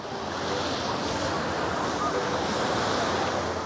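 Gentle ocean waves wash steadily onto a shallow, clear-water beach in Florianópolis, Brazil, a constant broadband surf roar with some wind noise across the microphone and no clear speech.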